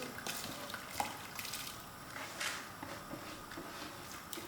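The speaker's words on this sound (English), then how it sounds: "now I'm going to add in my mini rice, which I drained out already" Drained mealie rice tipped into a pot and stirred for kitchree, a soft wet rustling and sizzling with scattered scraping knocks, fairly quiet and close.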